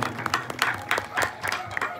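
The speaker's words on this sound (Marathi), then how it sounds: "एकदा जरा जोरदार टाळ्या झाल्या पाहिजे" Audience applause at a Marathi stage event honoring the noted Maharashtrian artist Appa Salve, with bursts of clapping rising and falling across the clip.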